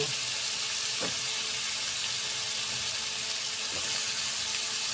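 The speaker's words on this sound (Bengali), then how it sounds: "আমি লাউটা এবার দিয়ে দিব" Chopped bottle gourd hits a pan of hot fried chili-powder spice paste, giving a steady broadband sizzle close and even throughout, with a couple of faint clinks.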